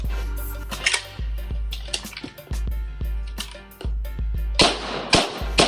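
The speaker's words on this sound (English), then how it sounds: "deploy it and do some rapid shooting" Rapid shots from a ZEV Magpul FDP folding firearm, a quick series of sharp close cracks in uneven bursts, with a few louder reports near the end.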